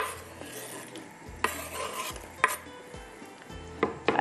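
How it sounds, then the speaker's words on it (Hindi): Chopped onions frying in Shahtaj cooking oil in a pan for vegetable korma, a soft sizzle under repeated spoon clatters and scrapes against the metal, spaced about a second apart. "प्याज को हमने कट कर लिया, और ये जाएगा अभी पैन में ऑयल जो डाला हुआ है शाहताज कुकिंग ऑयल उसके अंदर"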